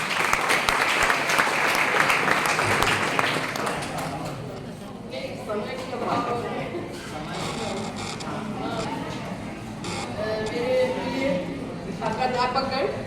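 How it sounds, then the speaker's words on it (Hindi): Dense applause from an audience at a college closing ceremony, loud and sustained for several seconds before fading, then a voice speaks over a hall with scattered lingering claps. "तालियों से स्वागत करेंगे।"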